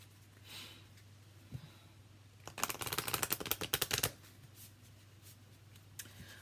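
Tarot cards shuffled by hand in a quick riffling burst of dense papery flutters lasting about two seconds, preceded and followed by a few soft isolated taps over a low steady hum.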